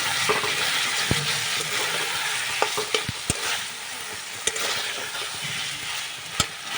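Raw fish is stirred into freshly fried spices in a pan, a steady close sizzle broken by sharp scraping clicks from the utensil at irregular intervals, with no voices.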